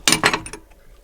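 Metal wrenches clink and jangle against D-rings in a few quick bright hits that fade out within a second, close and without talk.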